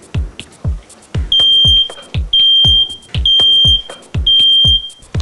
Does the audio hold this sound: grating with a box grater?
no